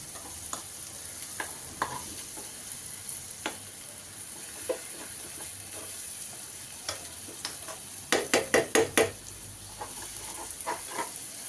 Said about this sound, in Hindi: इसको हिलाते रहें ताकि ये जले नहीं।